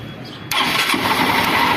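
Motorcycle electric starter cranking after a wire is touched to the positive battery terminal on a rusty bike that would not start, kicking in abruptly as a loud, steady whirring engine noise that continues to the end.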